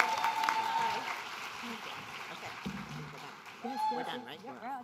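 Audience applause at a women's leadership and policy summit, a steady wash of clapping with whoops and voices mixed in, louder at the start and swelling again near the end.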